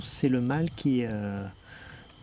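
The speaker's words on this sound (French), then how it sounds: "Quand vous entendez un chant de grillon" A male cricket chirps in a steady, thin, high trill that runs through the whole stretch in the background while a person speaks French over it.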